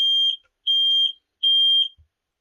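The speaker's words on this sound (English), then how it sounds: "And there goes an alarm." Inside a camper van at night, an alarm sounds three loud, piercing, steady electronic beeps, each lasting about half a second with short gaps, followed by silence.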